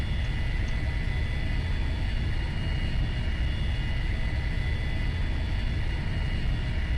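Steady broadband engine drone of an airplane in a flight video game, running continuously as the plane taxis toward a terminal, constant and fairly loud with no talk.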